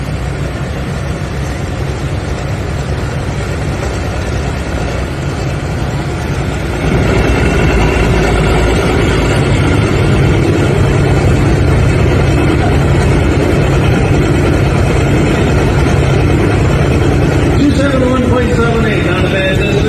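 An older tractor at a tractor pull in Highland, Wisconsin runs with a heavy, low engine rumble that steps up in loudness partway through and holds steady, with voices talking over it.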